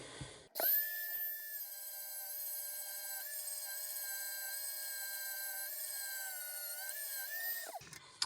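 A Katerk rotary flex shaft tool at speed 5 sands the edge of an oak piece, a steady high-pitched whine held close and loud for about seven seconds, switching on and winding down at the ends.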